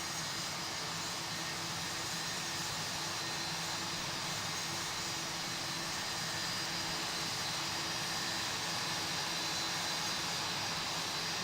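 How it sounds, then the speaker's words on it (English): Jet engines of a Boeing 737-800 start up in the X-Plane 12 flight simulator, a steady, even whine and drone with a faint high tone, heard alone with no talk. "Starting pushback, and you may start engines."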